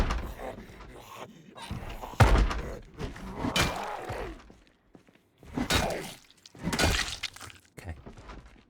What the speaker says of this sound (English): Got to keep going until we don't hear any banging at all.